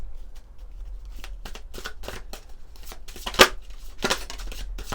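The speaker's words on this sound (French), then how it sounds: "On va prendre une carte, alors, de l'oracle des énergies lumineuses." Oracle cards being shuffled by hand, a run of quick papery riffles and slaps, close and crisp, with a few louder snaps near the end and no speech over them.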